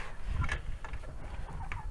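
Chickens cluck softly in their coop, a few faint, scattered clucks over low background rumble.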